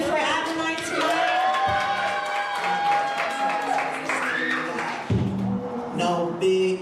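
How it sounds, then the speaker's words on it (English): A church crowd of women cheers and whoops loudly at an event, with lively shouting and some clapping under a host's amplified voice and music. "All right, all the ladies, can we cheer for Adonai tonight?"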